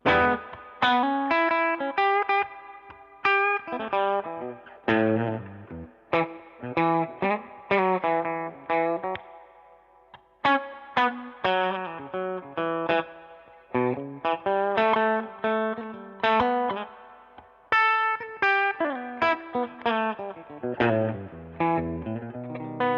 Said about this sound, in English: If I just played a 12-bar blues, soloed over it without really emphasizing the chords